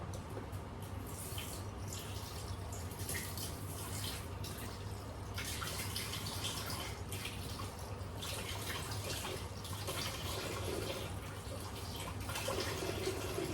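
Steady running water pours continuously into a bowl with corn flour, with a broad hiss and a low hum underneath, with no voices.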